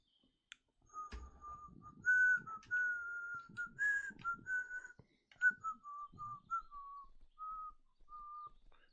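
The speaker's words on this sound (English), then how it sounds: "Just because I'm whistling a jaunty tune" Someone whistles a bouncy, meandering melody of short and held notes, close and clear, with small handling noises between phrases.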